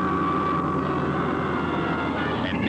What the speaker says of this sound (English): the spacehead fires the rockets.